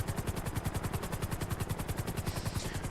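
Helicopter rotor chop from a video game roleplay, a steady rapid beat with a low engine drone while the aircraft sets down, loud and close throughout.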